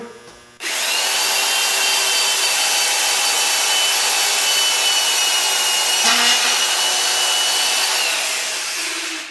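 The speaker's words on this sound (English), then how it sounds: "What I do need is the drill. And I have the proper bit in for the screw." A power drill whirs steadily for several seconds at close range, driving a screw, with a brief dip and catch midway as it drives in, then winds down.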